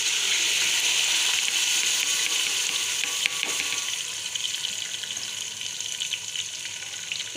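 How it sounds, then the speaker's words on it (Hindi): Spices and masala frying in a pan for a beef paya (cow trotter) curry, a steady close sizzle with stirring that holds level throughout, easing slightly toward the end. "लेकिन ये हमारा मसाला भुन रहा है"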